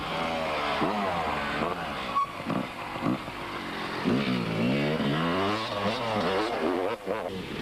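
Racing motorcycles at the 1998 Sugarbelt 400, engines revving and rising in pitch as a rider pulls wheelies, heard at a distance under crowd noise and commentary.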